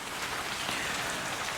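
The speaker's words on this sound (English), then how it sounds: "I should definitely be using today since it's raining." Steady rain falls in a dense, even hiss, pattering continuously on surfaces close by with no other sounds.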